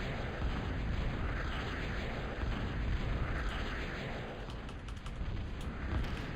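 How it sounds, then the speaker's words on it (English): Naval artillery guns shelling the shore in the strategy game Total Annihilation: a dense, continuous roar of overlapping blasts and rumbling explosions, loud and sustained throughout, with no voices. "He intends to bring forth the naval artillery guns to shell the shore."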